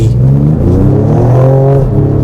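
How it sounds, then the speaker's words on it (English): The 3-liter twin-turbocharged V6 of a 2025 Ford Explorer ST revs loudly up close, a smooth rising and falling engine note that holds throughout without any talk. "It sounds good even too. You know, we're talking about the engine sound, of course."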